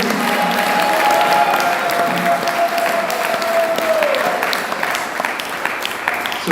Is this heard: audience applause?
yes